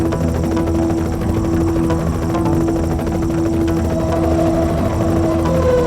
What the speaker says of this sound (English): that helicopter is heavily armed